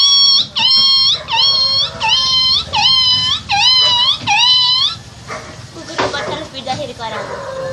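A girl imitates a puppy yelping as it is beaten, giving a series of about seven rapid high-pitched yelps in a regular rhythm, followed by softer trailing whimpers and breathy noise, close and loud.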